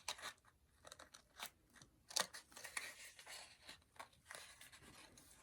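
Scissors cutting the middle out of a hat, a series of quiet close snips and crunches at an uneven rhythm, with no talking.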